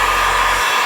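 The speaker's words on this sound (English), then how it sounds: "I like to run a heat gun and let it just relax down there nice and clean." A heat gun blows a steady, loud, close rush of hot air over the edges of knifeless tape during a vinyl wrap job, one continuous whoosh with no talking.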